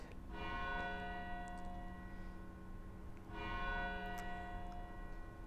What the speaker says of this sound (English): they could tell that that was 4 dongs on the bells